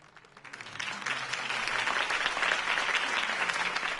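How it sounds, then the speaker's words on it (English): A crowd bursts into applause at a political campaign rally in the Batman Telltale video game, the clapping rising quickly from quiet to a full, dense, sustained roar. "could have heard that applause"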